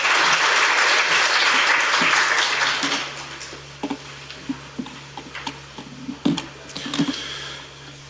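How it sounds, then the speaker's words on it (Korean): A burst of clapping from a conference audience after a speaker is introduced fades out, leaving scattered single claps and light tapping sounds. "박수 부탁드리겠습니다."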